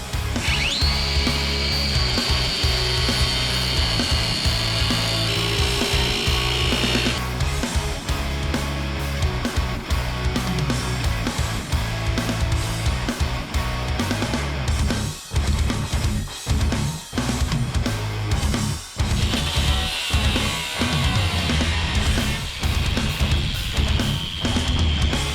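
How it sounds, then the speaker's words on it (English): Cutting wheel grinding through the steel of a Pit Barrel Cooker smoker during a repair, a loud continuous abrasive whine and rasp that shifts pitch as the disc bites, with brief dips and bursts of grinding through the middle of the cut. "So we get my cutting wheel, make a cut coming along here"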